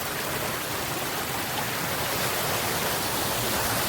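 A waterfall along the Klamath River pours with a steady, dense rushing roar, close and unbroken, with no talking.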